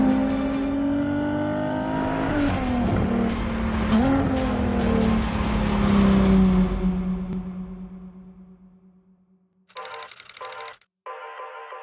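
A Ferrari Monza SP2 engine roars loudly and close, rising and falling through revs with sharp crackles, then fades away into silence, followed by brief electronic beeps.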